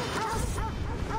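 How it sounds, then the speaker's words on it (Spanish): Game dog in Assassin's Creed Odyssey yelping and barking in short bursts during an attack, over dense in-game ambience and background clutter. "¿Qué me va a atacar un perro?"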